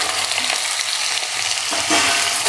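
Mixed vegetables for a restaurant-style mix veg sabzi fry in hot oil in a pan, a loud, steady crackling sizzle close by with bursts of spattering and no talking.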